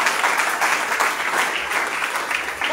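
A church congregation claps loudly and continuously, a dense full roar of applause that fills the room for a few seconds.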